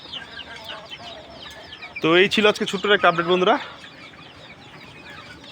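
Desi chickens, kept in hot weather, cluck steadily in the background as someone speaks over them for a moment.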